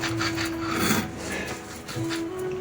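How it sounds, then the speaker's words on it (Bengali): Chicken spice paste being ground on a traditional flat grinding stone, a steady rough rasping scrape that surges and eases in strokes, close and continuous with no talking. "আমি এখানে বাটার কাজ চালাচ্ছি।"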